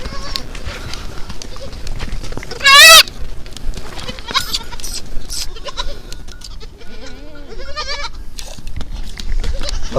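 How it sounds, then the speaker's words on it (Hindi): A recently kidded goat bleats loudly and close by, one strong wavering cry followed by fainter bleats, with people talking and birds calling through the farmyard background. "ये जड़ी है बकरी, इसको जड़ी बोलते हैं।"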